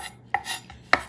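A knife chopping fresh herbs into tiny pieces on a cutting board, two sharp, close knocks spaced about half a second apart with faint scraping between.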